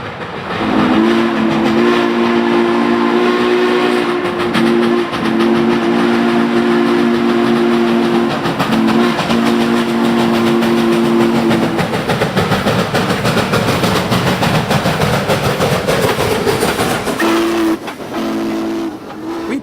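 A train passes loudly and close, its steam-style whistle sounding in long sustained blasts broken by short gaps, then fading out as the rumble and clatter of the cars continue after the whistle stops.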